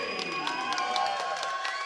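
Big crowd at a martial arts fight cheering and shouting continuously, a dense sustained roar with whoops and a few sharper yells rising out of it.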